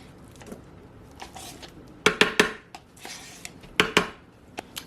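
Cottage cheese is spooned into a food processor bowl, with soft wet plops and several sharp clinks of spoon against plastic in uneven bursts, close up with no talking.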